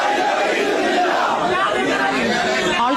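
A large crowd of mourners gathered around an ambulance carrying the late leader VS makes a loud, continuous roar of many voices, with shouting that sounds like slogans.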